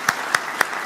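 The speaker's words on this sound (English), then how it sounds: "Come on, round of applause, guys." A few sharp, evenly spaced hand claps ring out in a brief burst at a gaming expo stage demo, with no talk over them.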